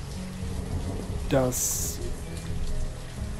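Steady rain falls in the village-building game Banished, a dense, even hiss that fills the whole clip, while a voice speaks one brief word in German over it.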